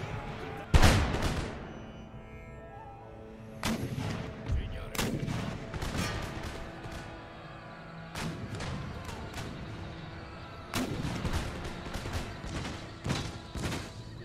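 Black-powder artillery fires round shot and canister in a large battle in Empire: Total War, with scattered heavy booms and rolling volleys over a continuous rumble of battle.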